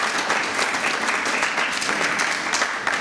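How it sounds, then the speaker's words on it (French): Sustained audience applause at an evening gathering of a Brussels association, dense steady clapping from many hands filling the room for the whole stretch, with no voices over it. "Veuillez applaudir plus pour monsieur l'abbé Kabwanga"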